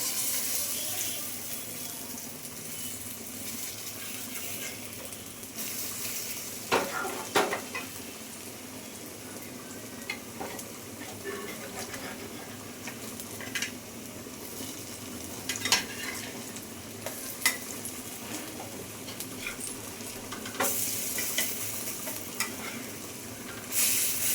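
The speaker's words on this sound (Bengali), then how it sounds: "দুপারে খুব সুন্দর করে ভেজে নিয়েছি, এবারে তুলে নিচ্ছি বন্ধুরা।" Shrimp and khesari lentil fritters with potato and papaya fry in oil, making a long, even hiss of sizzling with scattered clicks and taps of a utensil turning them.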